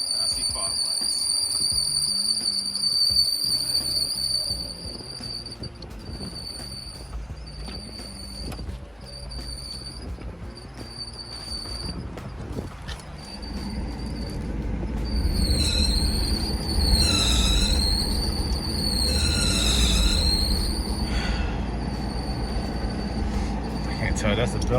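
A belt and pulley squeal in the engine of a 1992 Mercedes-Benz 500SL R129. A steady, high-pitched whine sits over a running engine rumble and turns into a wavering, chirping squeal in the second half.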